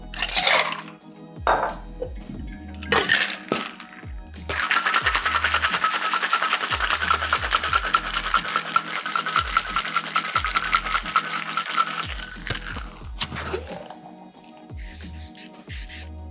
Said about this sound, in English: Add ice and shake.